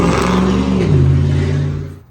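A loud car passes close by in the street, its engine rising to a broad roar and then fading over about two seconds.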